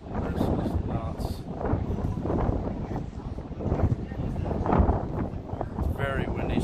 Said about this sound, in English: It's very windy, so the camera's shaking.